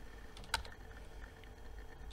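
Soft typing on a computer keyboard, faint scattered keystrokes with one sharper click standing out, heard quietly with no voices.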